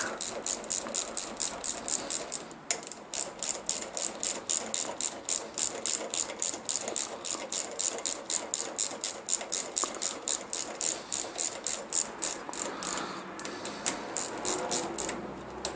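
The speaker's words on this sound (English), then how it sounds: "You can now tighten the cylinder head bolts evenly" A ratchet wrench tightens the cylinder head bolts on a Land Rover Hitachi or Dunlop air suspension compressor, giving rapid, steady, close mechanical clicking that runs almost continuously, with a short break near the start and another near the end.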